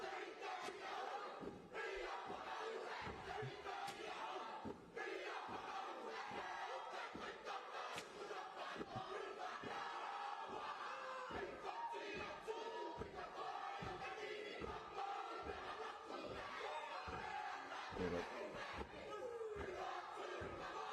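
A Matatini kapa haka performance rings out as a large group chants in powerful rhythmic unison, punctuated by regular stamping thuds, loud and sustained over the whole stretch.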